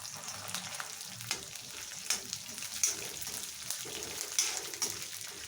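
Peanuts frying in a little oil in a pan while making an ivy gourd stir-fry, with a soft continuous sizzle and scattered faint crackles and pops throughout.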